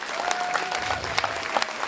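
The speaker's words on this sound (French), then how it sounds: "Parce qu'elles méritent vraiment un tonnerre d'applaudissements." Audience applauding models at a 2019 fashion show, a dense patter of many clapping hands with a few sharper claps standing out, steady and moderately loud throughout.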